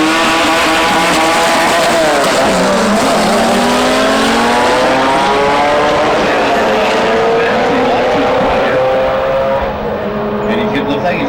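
Two Honda Civics drag race at an import drag racing event, a single-turbo 1994 Civic against a 1999 Civic, with loud, close engines whose pitch climbs and shifts through gear changes and tire noise, continuous for about eleven seconds.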